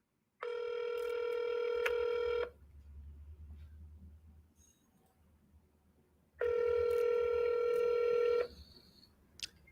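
Cold call placed from a phone, two long steady ringback tones about two seconds each separated by a quiet gap, loud and clear with faint background hiss between them.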